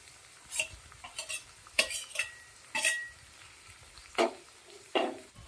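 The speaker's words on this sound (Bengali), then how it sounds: "এর মধ্যে ভেজে রাখা চিংড়ি মাছটা দিয়ে দেবো" Fried shrimp tipped into snake gourd cooking in a pan brings a low sizzle under intermittent spoon scrapes and metallic clinks against the pan, irregular and close, with no voices.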